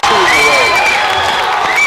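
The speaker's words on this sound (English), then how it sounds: "It's got that crowd howling" A high school basketball crowd at Plymouth Regional roars and whistles after a three-pointer, loud and sustained cheering with piercing whistles, a commentator's voice running over it.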